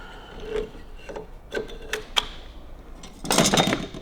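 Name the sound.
metal clutch plate placed into motorcycle clutch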